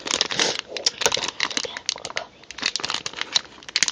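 Plastic packaging around water-based colour pens being torn and crumpled open, a close, busy run of crinkling rustles and sharp tearing bursts that pause briefly midway before resuming.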